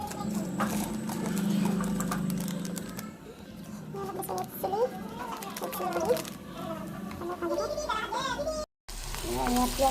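Onions frying in a pan, with a continuous sizzle and clattering kitchen sounds beneath someone talking, plus a brief dropout near the end.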